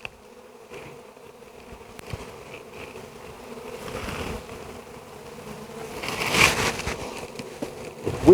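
Honey bees buzz steadily around an open hive being worked during a hive body replacement, a dense droning hum that swells louder toward the end, with no voices.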